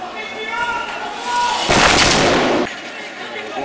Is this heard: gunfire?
yes